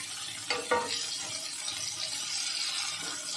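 Boiled garlic and ginger pressed and mashed with a ladle in a pan for a village-style aubergine bharta, giving a soft wet sizzle and a couple of sharp scrapes early on, close and steady throughout.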